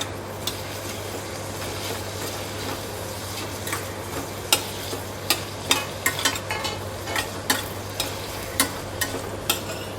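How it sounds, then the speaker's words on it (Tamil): Capsicum, onion and tomato sauté in a pan for chutney, a low sizzle running throughout under repeated sharp clicks and taps of stirring. "கேப்சிகம் மட்டும் இன்னும் கொஞ்சம் லைட்டாக வதங்கணும்"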